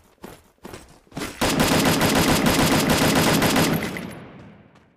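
Automatic gunfire in an online shooter game: a few scattered shots, then a long, loud, sustained burst of rapid fire that fades out near the end, with no talk over it.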